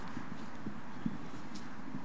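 Horse cantering, its hooves landing in a steady clip-clop rhythm, moderately close over a faint background hiss.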